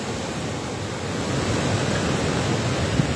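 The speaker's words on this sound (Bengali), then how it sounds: "প্রচুর পরিমাণ বৃষ্টি হইতেছে।" Heavy rain falls at the Muhuri project riverside as a dense, continuous hiss blended with rushing water, steady and loud, with no voices.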